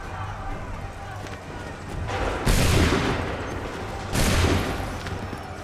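Musket volleys in Assassin's Creed III, with two loud broad bursts of massed fire over constant battlefield noise and shouted commands.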